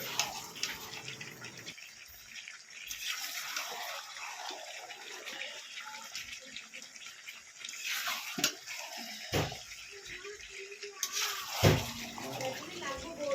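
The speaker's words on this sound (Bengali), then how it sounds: "ঝোল দেওয়া হয়ে যাবে গরম করা জলগুলোকে ঢেলে দেওয়া হবে" Hot water pours into a pot of chicken curry in a home kitchen, a splashing, running-water rush that comes and goes in bursts with clinks of utensils, while someone talks over it.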